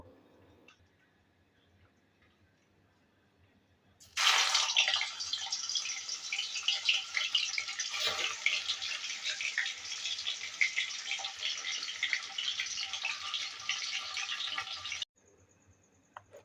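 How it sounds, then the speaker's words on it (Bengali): Hilsa fish pieces sizzle loudly in mustard oil in a kadai. A steady, bright hiss starts abruptly and runs unbroken for about eleven seconds, then cuts off, with a quiet kitchen before and after. "এবার একে একে ইলিশ মাছগুলো ভেজে নেব"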